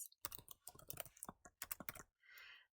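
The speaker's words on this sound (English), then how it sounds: "So let's go ahead and type these in." Rapid computer keyboard typing in irregular bursts of clicks, fairly close and crisp, ending with a brief softer rustle; no voices.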